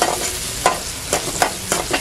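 Small onions sizzle in hot oil for fish pollichathu, a steady frying hiss broken by regular scrapes and clinks of a spoon stirring the pan, close and with no talk.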